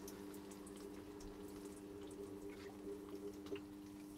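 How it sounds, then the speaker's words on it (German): Water running into a mini washing machine aboard a sailboat, a faint steady trickle and fill over a low humming tone, quiet and close, with small drips and bumps near the end. "Ah, jetzt kommt das Wasser."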